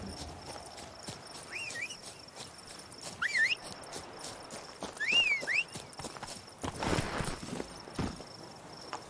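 Horse hooves clip-clopping in The Witcher 3 video game, a steady walking rhythm close by with chirping insect ambience and scattered bird-like calls around it.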